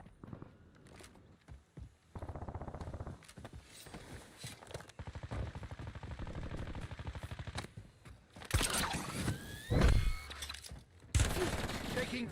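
Bursts of gunfire in Black Ops Royale, faint at first with quiet mechanical clicks and footsteps, then heavier volleys and loud close shots toward the end amid game effects.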